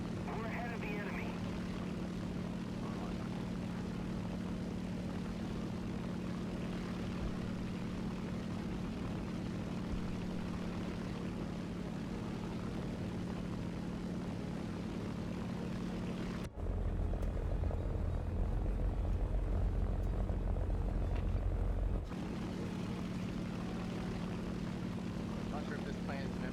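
A propeller plane engine droning steadily in a video game, a constant low hum that cuts to a deeper, louder roar for several seconds before returning.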